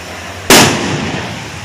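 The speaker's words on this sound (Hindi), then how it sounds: "यहाँ पर आतिशबाजी चल रही है, खुशी और ये पटाखे फोड़ रहे हैं वहाँ पर।" One loud, sharp firework or firecracker bang bursts close by at a celebration in India, then fades into a hissing, rumbling tail.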